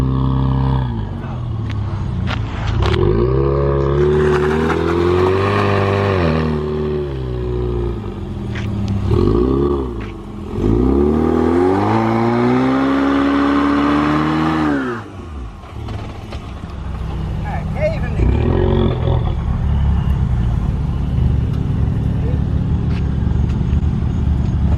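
A Mustang and a Nissan Z launch in a street drag race, with loud engine revs climbing through rising, falling gear sweeps, one pass fading near the end as a crowd voice is heard over the roar.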